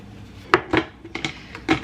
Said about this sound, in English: All right, I'm gonna drain out my cashews.